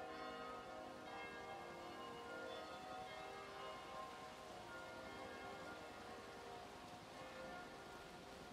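Church bells ring in a dense, continuous wash of tones, faint and distant, with a steady hiss like rain running underneath throughout.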